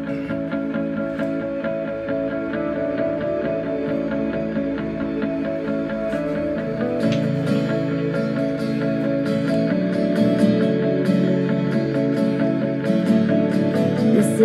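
A drum kit keeps a steady beat under a full band with sustained chords, growing busier and louder partway through, cymbal hits splashing near the end.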